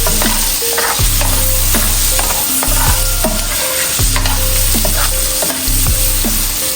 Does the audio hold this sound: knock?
no